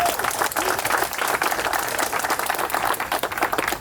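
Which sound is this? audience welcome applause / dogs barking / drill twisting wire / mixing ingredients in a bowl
audience welcome applause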